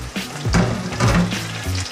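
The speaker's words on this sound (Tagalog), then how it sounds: "after the garlic, we can add in the shrimp." Shrimp hit a hot pan of sautéed garlic for ginataang hipon, giving a steady close sizzle that swells in two bursts as they are stirred, with no talking over it.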